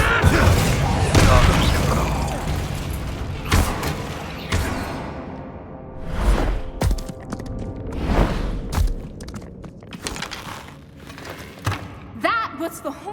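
A Bombarda explosion spell bursts with a heavy, booming blast from the video game Hogwarts Legacy, followed by several further thuds and crashes with rumbling tails.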